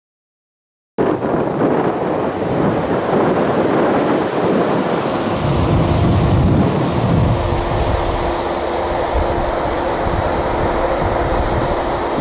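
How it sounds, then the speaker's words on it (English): Strong southeasterly wind flowing into an approaching severe storm in Indiana, a loud steady roar of wind buffeting the microphone that starts abruptly and continues without pause. "Got some nice southeasterly inflow flowing into the storm"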